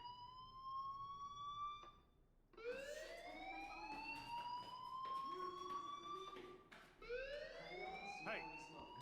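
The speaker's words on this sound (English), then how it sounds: "Hey, do you hear that fire alarm?" A fire alarm in Life is Strange wails in repeated rising sweeps, three cycles in all, steady and fairly loud across a school setting.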